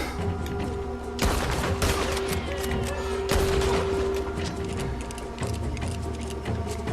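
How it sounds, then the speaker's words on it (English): Rapid bursts of gunfire from a Red Dead Redemption 2 shootout, several loud volleys over a steady drone, with dense crackling shots packed closely together throughout. "Stop shooting me."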